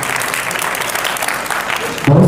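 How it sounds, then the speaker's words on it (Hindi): Applause at a film award ceremony in Bihar, sustained crowd clapping at moderate loudness, ending in a sudden low rumbling burst. "जोरदार ताली होना चाहिए।"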